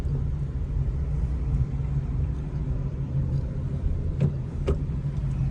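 A driving school car accelerating in second gear on a city road: a steady, loud low engine and road rumble heard from inside the cabin, with a couple of faint clicks near the end and no talking.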